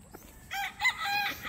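A white gamefowl breeder rooster crows once nearby, a rising then sustained call over a quiet farmyard.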